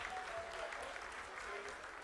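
Applause fills the mission control room during the Chandrayaan 3 lunar landing, a steady wash of clapping held at an even level for two seconds with faint voices mixed in.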